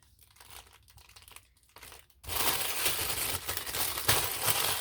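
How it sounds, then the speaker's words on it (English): Plastic packaging around a pack of daubers crinkles and rustles, faint at first, then loud and continuous close to the microphone, with no talking. "sorry for the crinkling, everybody"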